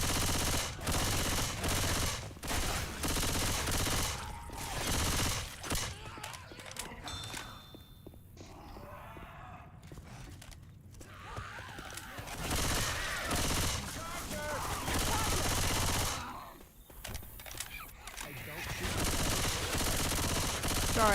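Rapid bursts of gunfire with sustained automatic fire during a livestream, loud and dense through most of the clip with brief lulls, alongside footstep-like movement.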